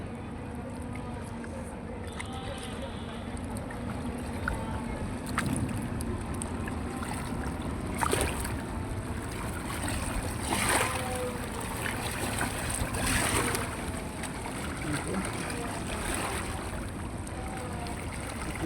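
A passing fishing trawler's steady low engine rumble with rushing, lapping waves and wind noise continues throughout, with a brief spoken word partway through.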